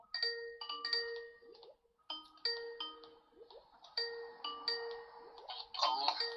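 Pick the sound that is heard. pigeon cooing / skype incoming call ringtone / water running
skype incoming call ringtone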